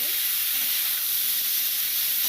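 Eggplants frying in oil for a neem-leaf and eggplant dish, giving a loud, steady, close hiss and sizzle that runs without a break and with no voices.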